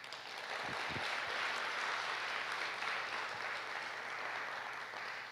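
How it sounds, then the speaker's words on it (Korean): Audience at a conference bursts into sustained applause, a dense wash of clapping that stays steady and fairly full for several seconds before easing slightly at the end. "우리 힘차게 축하와 격려 박수 부탁드립니다"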